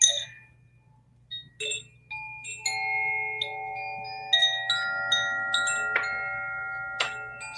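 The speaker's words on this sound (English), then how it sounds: "So my chimes are wanting to come in." Chimes are struck one note after another, bright metallic tones ringing out and overlapping into a shimmering wash, with a steady low hum beneath and no talk.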